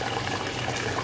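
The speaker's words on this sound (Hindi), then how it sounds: "दाल में पानी डाल करके रख दिया मैंने।" Water poured into a pot of lentils left to soak, a steady close splashing rush that fills the whole moment without any voices.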